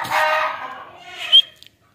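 Desi chickens on a farm give a short burst of mid-pitched clucking and squawking, moderately close, with one sharper high cry near the end before quiet.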